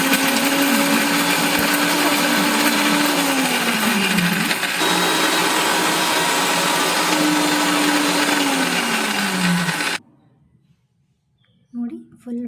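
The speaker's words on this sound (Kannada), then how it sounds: "ಇವಾಗ ಸ್ವಲ್ಪ ಮಿಕ್ಸಿ ಜಾರ್ಗೆ ಮಸಾಲೆನ ರುಬ್ಕೊಳ್ತೀನಿ" A mixer grinder jar whirs loudly and steadily as it grinds masala with coconut for a bottle gourd curry, its motor pitch dipping twice under load, then stopping abruptly before brief faint sounds.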